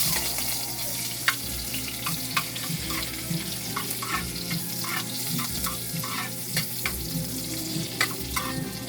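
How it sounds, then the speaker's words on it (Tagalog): Onion and garlic sizzle in oil in a frying pan at the start of cooking adobong kangkong with tokwa and pork, a steady close hiss broken by scattered clinks and scrapes of stirring, with no talking. "Gigisahin na natin yung sibuyas at saka bawang."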